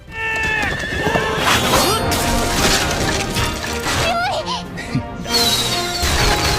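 A horse neighs loudly in an anime as mounted knights appear, with hooves clip-clopping, crashing impacts and voices mixed into the busy scene.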